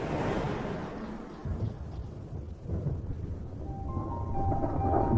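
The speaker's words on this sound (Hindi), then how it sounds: "आसमान बादलों से घिरने लगा है और बिजली भी गरजने लगी है।" Thunder rolls as monsoon clouds gather over dry African grasslands, a deep, rumbling roar that swells and fades in waves, heard alone with no voices.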